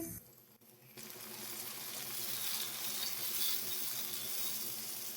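Tomatoes hit a pan of lightly browned onions for Kabuli pulao, setting off a sudden loud, broad sizzle that holds steady and close to the end.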